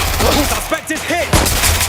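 Gunfire in Watch Dogs: Legion, several loud shots in quick bursts mixed with shouted voices and ricochet-like whines, close and busy.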